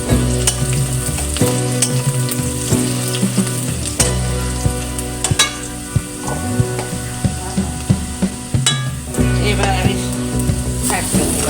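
Dried red chili and cumin seeds frying in oil in a pan, a loud steady sizzle close up, punctuated by repeated scrapes and knocks of a spoon stirring.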